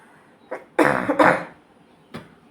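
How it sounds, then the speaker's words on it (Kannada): A few close, dry coughs: a short one, then a harsh double cough, and a final brief cough after a pause. "ನನಗೆ ಕೆಮ್ಮು ಸ್ಟಾರ್ಟ್ ಆದರೆ ತುಂಬ ದಿನ ಇರುತ್ತೆ"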